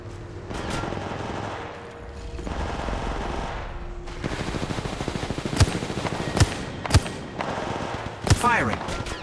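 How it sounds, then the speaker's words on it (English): Video game gunfire crackles through the second half, with sharp individual shots and short bursts standing out over a dense, continuous battle din and occasional voices. "The enemies are shooting at me. Opening fire on the enemy."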